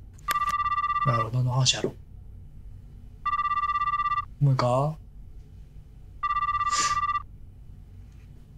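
A phone ringback tone sounds in three evenly spaced bursts while a call is placed, each a loud steady electronic trill, with someone speaking in the gaps between rings.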